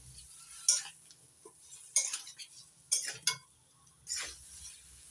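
A metal spoon scrapes and clinks against a pan while spice paste for a thin katla fish curry with potato, cauliflower and lentil dumplings is stirred, four or five sharp clanks over a faint, soft background.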